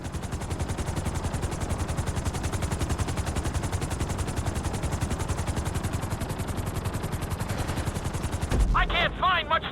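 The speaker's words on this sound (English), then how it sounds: "Bring the helicopter down gently onto the helipad." A helicopter setting down on a helipad in GTA 5, its rotor chopping in a loud, fast, steady rhythm throughout, with a short burst of talking near the end.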